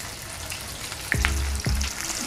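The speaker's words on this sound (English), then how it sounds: "you wanna fry this only the outer part is crisp, but the inside still chewy and soft" Sandwich bread laid into a very hot pan starts frying, a steady close sizzle that swells as the slices go in, with a couple of brief clatters and no talking.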